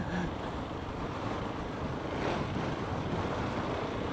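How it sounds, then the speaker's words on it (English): Strong, bitter wind at a beach buffeting the microphone, producing a steady, loud roaring rumble with no break over the whole stretch and no talking. "Well, that wind is absolutely bitter."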